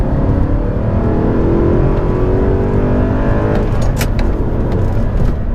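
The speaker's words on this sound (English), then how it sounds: "It's got a lovely sort of cultured NASCAR almost V8 rumble to it" An Audi R8 V8 engine rumbles deeply and loudly, heard from inside the car as it revs and pulls with a steady throbbing growl, with a brief whir of road noise near the end.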